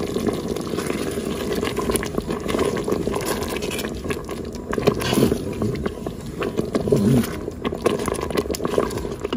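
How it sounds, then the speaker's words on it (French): Milk pours into a pressure cooker pot holding chicken, mushrooms and spices, a close, bubbling liquid fill with splashy gurgles that rises and falls throughout. "On va ajouter notre lait et on va lancer une cuisson sous haute pression"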